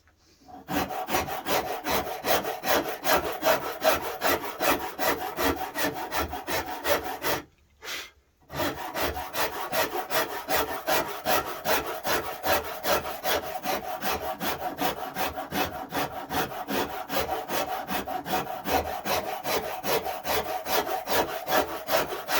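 A Shinto rasp carving a mahogany guitar neck, with continuous rhythmic rasping strokes, close and steady, with one brief pause partway through.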